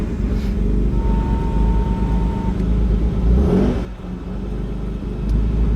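A 1968 Ford Transit van with a swapped Scorpio engine and twin turbos runs loud and close, a steady low rumble with a rising rev surge near the end before it settles back to idle.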